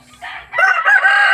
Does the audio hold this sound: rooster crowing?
yes